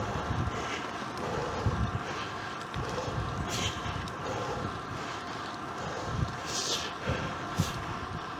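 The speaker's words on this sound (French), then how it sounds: "Il y a le vent de côté," Crosswind buffeting the microphone during a flight near Châlons, a steady rumbling wind roar with engine drone underneath and a few brief gusty bursts, no voices.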